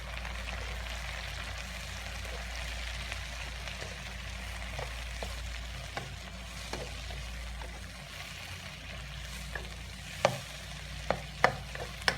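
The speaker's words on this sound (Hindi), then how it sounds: "और अब डालेंगे इसमें कटे हुए टमाटर और" Chopped tomatoes and green chillies fry in a pan for a karela gosht curry made with camel meat. A steady sizzle runs throughout, and a few sharp spoon clicks and scrapes come near the end.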